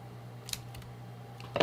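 Scissors snip through tape during an MSI MS-16K2 laptop fan replacement, a couple of brief crisp cuts over a steady low hum, close and quiet.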